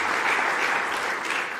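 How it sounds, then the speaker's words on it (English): Audience applause fills a forum hall at the Bled Strategic Forum in Slovenia, a dense, steady wash of clapping that holds evenly throughout with no voices over it. "your applause first of all"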